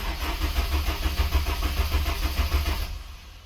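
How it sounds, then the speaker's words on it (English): Starter motor on a 2006-or-later Honda S2000 cranking the engine over without fuel, a steady rapid churning rhythm that runs close and loud for about three seconds, then cuts off and fades. "use the starter to crank the engine over for a few seconds and release pressure from the fuel system."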